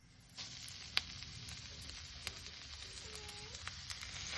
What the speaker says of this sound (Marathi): असं चुरकन आवाज काढलाय आणि पटकन पेटीत काढून घेतले मासे